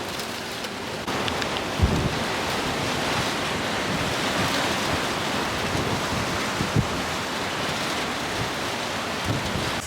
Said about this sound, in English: The wind's picking up pretty good right now.